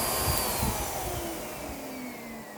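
Miele U1 upright vacuum cleaner running steadily on its loudest smooth-floor setting, a close, continuous broadband whoosh with a faint high whine that eases slightly toward the end.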